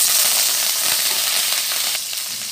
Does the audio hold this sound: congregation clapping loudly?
no